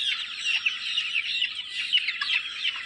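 A flock of chickens, including roosters, clucks and chatters continuously nearby. Overlapping calls rise and fall in a busy, steady stream.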